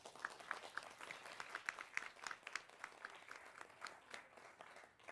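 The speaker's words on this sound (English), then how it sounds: "Please give us a big round of applause," An audience at a talk on independent economic models claps for an incoming speaker, a steady patter of moderate applause from a smallish crowd heard at some distance, no voices over it.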